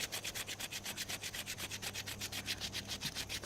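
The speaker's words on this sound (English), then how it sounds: "sanding away with aluminum foil" Crumpled aluminum foil soaked in Coke is rubbed against a pitted chrome rim, making a steady, rapid back-and-forth scrubbing rasp of about five strokes a second. The sound is close and continuous.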